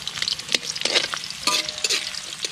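Garlic, onion and ginger sautéing in a pan, a close, crackling sizzle broken by quick scraping strokes of a spatula stirring, with no talk.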